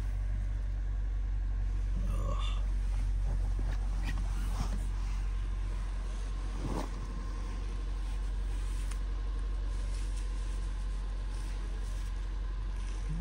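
A Suzuki Jimny 4x4 engine idles steadily after a cold start in snowy winter conditions in Harsil, a constant low rumble with brief faint sounds and occasional background noises over it.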